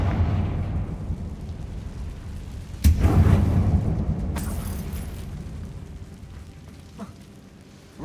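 A Confringo fire spell exploding in the video game Hogwarts Legacy, a sudden loud blast that rumbles and fades, followed by another sharp burst and a small pop later, over a low ambient drone.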